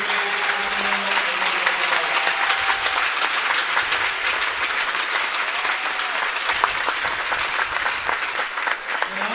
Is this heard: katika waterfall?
no